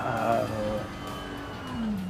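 A drift car in the D1NZ Logitech G Virtual Series sim racing round at Pukekohe Park Raceway, its engine tone rising and falling through revs in a brief moderately loud pass, mixed with game audio and faint commentary.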